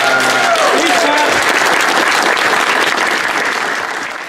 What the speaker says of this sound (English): Caryn, give her a big, huge round of applause